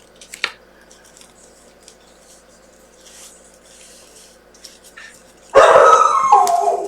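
Dogs barking loudly indoors in a home craft room, a sharp yelp early on, then a sustained burst of barking near the end after a quiet stretch.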